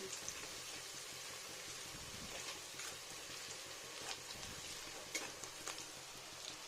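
Mrigal fish curry ingredients sizzle quietly in a wok, a soft, steady frying crackle with scattered pops and light stirring scrapes, faint and close.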